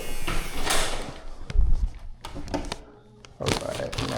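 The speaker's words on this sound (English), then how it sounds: "let's pop this one open. And this is the door we have the key to." A building door being unlocked with an access key and pushed open, with clicks, a low thud and rustling handling noises at close range in an otherwise quiet space.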